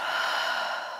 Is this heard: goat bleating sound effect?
no